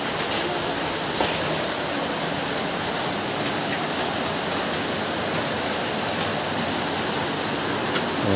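Heavy typhoon rain pours down steadily outdoors in Montalban, Rizal, a dense unbroken hiss of water hitting surfaces at constant loudness with no voices.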